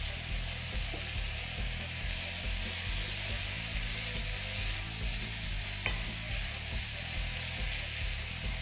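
Minced meat keema browns in a pan with a loud, continuous sizzle and hiss, and occasional stirring scrapes mixed into the steady frying noise.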